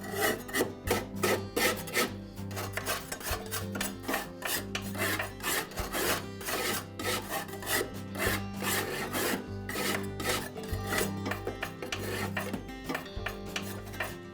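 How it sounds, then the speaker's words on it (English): A stiff putty knife scrapes caked buildup off the underside of a lawn mower deck in quick repeated rasping strokes, steady and close, with no one speaking. "I'll use the knife to scrape away any of the larger pieces of buildup."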